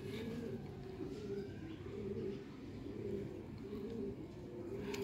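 Golden high-flyer pigeons coo steadily in repeated soft, throaty phrases, fairly close, over a constant background hum, with no talking.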